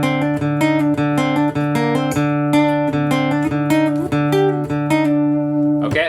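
The main riff of a song from a recording repeats with sharp, evenly spaced picked notes over a sustained low tone, loud and close, no talking.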